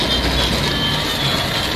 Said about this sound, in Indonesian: Keretanya jadi bisa jalan nih.